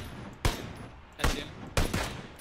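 Three separate bursts of PUBG gunfire, each a sharp crack trailing off into a brief rumble, spaced about a second apart and moderately distant.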